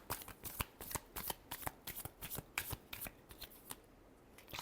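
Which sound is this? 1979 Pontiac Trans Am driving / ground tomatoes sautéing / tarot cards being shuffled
tarot cards being shuffled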